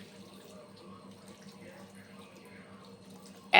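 Water splashes faintly and steadily into a pot of masoor lentils being cooked into dal, a soft continuous trickle that ends in a louder splash at the very end.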